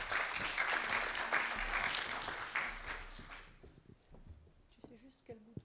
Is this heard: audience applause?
yes